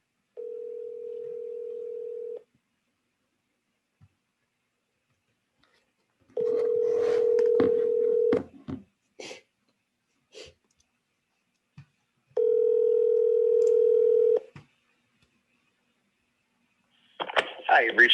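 A telephone rings out on a call to a property manager, three long steady tones separated by silences, with clicks and a short burst of voice near the end.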